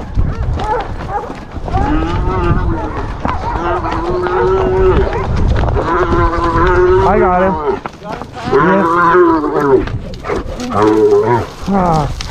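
Several cattle, cows and calves, moo loudly and close by in long, overlapping calls, one after another, with a little background noise between them.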